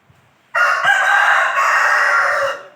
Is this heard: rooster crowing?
yes